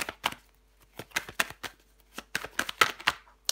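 Tarot cards are laid down one after another on a table during a reading, making a quick series of soft, crisp slaps and flicks, close and fairly quiet, with no talking.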